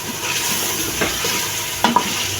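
A pan of chicken, turnip and spices being stirred over heat, with a steady, close scraping and gentle sizzle throughout and two sharper clinks of the utensil near the end; no talking.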